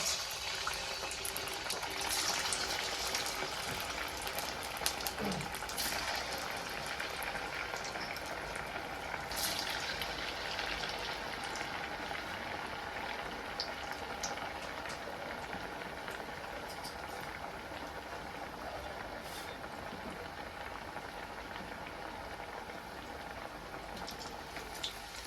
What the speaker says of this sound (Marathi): कढई पण ठेवले त्यात तेल ओतलेलं आहे आपल्याला वडे तळण्यासाठी तर मी आता एक एक वडा सोडून घेते